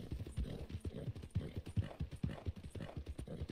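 Horse hooves clip-clop steadily at a walking pace in Red Dead Redemption 2, a close, even rhythm of soft thuds that continues alone with no talk over it.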